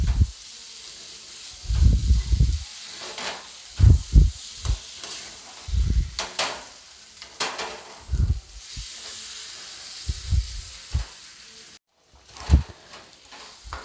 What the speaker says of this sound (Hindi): इस आलू को मैं आधा मिनट तक भून लूँगी मसालों के साथ।